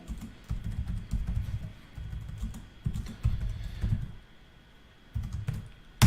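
Someone types on a computer keyboard in bursts of rapid clicking keystrokes, with short pauses between runs, close and fairly clear, and no talking over it.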